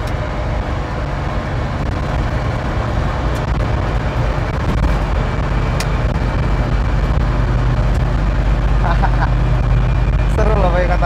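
Old Suzuki Katana driven at 90 km/h on a highway, a loud, steady engine and road roar filling the cabin with constant low rumble and occasional rattles.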